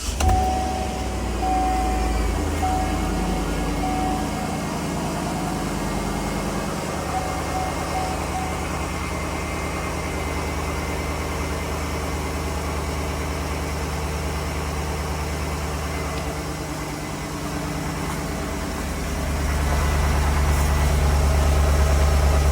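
Chevrolet Suburban engine fired up after a fuel pump replacement, settling into a steady, close idle with a constant low drone and a slight rise in level near the end.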